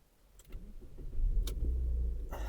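A Mitsubishi Outlander engine cranks and catches, settling into a steady low idle, with a couple of faint clicks before it starts.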